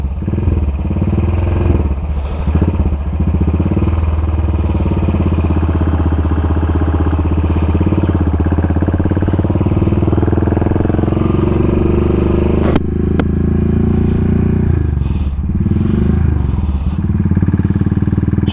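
Royal Enfield Continental GT motorcycle engine running steadily at close range, a loud continuous throbbing idle with a brief blip and slight revving near the end, no talk over it.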